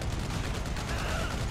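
Gunfire in the video game GTA V, a dense, continuous spray of shots that stays loud and steady throughout with no pauses.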